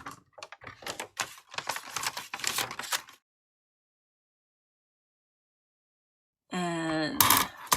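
Scissors snip through a handmade rustic gift tag in a quick run of close, crisp cuts, then stop and leave near silence before a brief burst of other noise.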